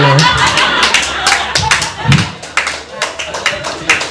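A comedy club audience claps at a stand-up comedy show, a lively patter of many hands with laughter and crowd noise woven through, loud and close throughout.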